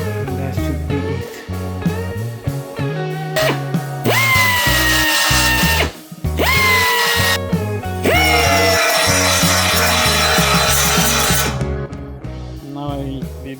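A power drill bores holes into the body of a luxury SUV under rebuild, whining up to speed in several close, loud bursts over steady background music.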